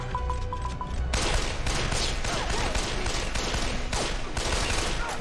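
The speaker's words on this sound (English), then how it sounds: "That was a little bit of a late reaction gunshot." Gunfire in an episode of the TV series Batwoman bursts out as a rapid volley of loud shots after a few brief electronic beeps, with no talk.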